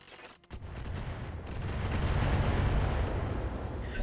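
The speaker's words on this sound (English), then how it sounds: "I want to start laying missiles down on this Jenner" A volley of missiles launched at a Jenner mech in the game RogueTech: a sudden burst, then a continuous roaring, crackling barrage that builds in loudness and stays dense to the end, with no speech.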